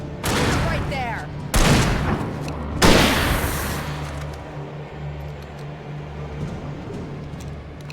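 Gunfire in the Alan Wake video game: two or three loud, sharp shot bursts in quick succession, each followed by a decaying rumble, with a low steady hum beneath and a voice briefly calling out.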